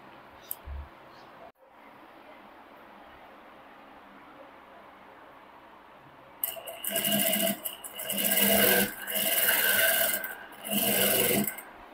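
A sewing machine stitches the front part of a four-dart blouse along an existing seam line, running in several loud bursts of rapid whirring after a quiet opening with faint handling noise.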